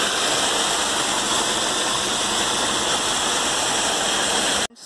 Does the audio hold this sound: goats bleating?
no